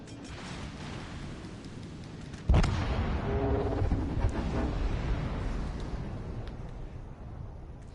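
Heavy naval main gun fire in a PS4 warship game: a sudden loud boom near the midpoint over a steady rumbling battle ambience, followed by a sustained low roar as the blast decays.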